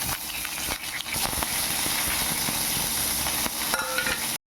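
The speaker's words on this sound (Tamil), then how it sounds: "இது நல்லா பொறிஞ்சு வைக்கணும் ஜீரகம் கொஞ்சம் போட்டு விடுவாங்க" Cumin seeds and dried chillies fry in hot oil, giving a loud, steady, close sizzle with crackles and occasional stirring throughout.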